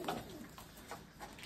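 A racing pigeon coos softly in a few repeated low, throaty bursts, close by and fairly faint, with no talking.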